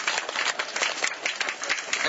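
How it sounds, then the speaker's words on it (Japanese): A small outdoor crowd at the Tsukuba Challenge 2014 robot navigation event in a park claps for competing robot teams, a dense patter of hand claps that is moderately loud and continuous for about two seconds. "拍手してよね"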